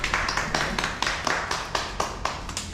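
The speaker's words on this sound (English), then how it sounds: "let's give a big round of applause for Nikesh." Applause for a speaker at a group discussion session: steady, rhythmic clapping from a small number of people, close and fairly loud, with evenly spaced sharp claps throughout.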